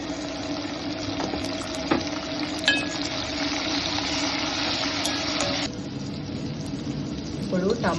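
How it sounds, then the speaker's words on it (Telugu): Tomato, onion and green chili frying in a pan for ragi upma, a continuous hissing sizzle with occasional clinks and a stirring scrape near the end, under someone talking. "ఇప్పుడు టమాటా అవన్నీ వేగిపోయినాయి"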